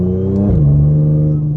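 An Audi S5 with a repaired transmission accelerates hard and snaps through a quick gear change, the engine note dropping sharply at the shift and then climbing steadily again, loud and close for under two seconds.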